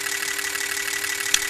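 A BMW E39 engine idles at about 735 RPM with a steady, even hum and drone, broken only by one faint click near the end.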